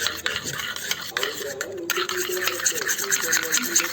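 Homemade slime being mixed: close, wet squelching and sticky stirring sounds in quick, uneven strokes, fairly loud, with no voice over it.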